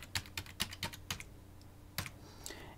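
Password being typed on a computer keyboard, a quick run of crisp, close keystrokes with a short pause before a few final taps.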